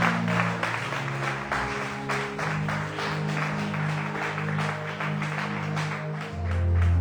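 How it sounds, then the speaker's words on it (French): Church congregation applauding during a worship service, a steady wash of clapping lasting several seconds with sustained organ or keyboard tones underneath and a swell near the end. "On peut l'acclamer, on acclame le Seigneur."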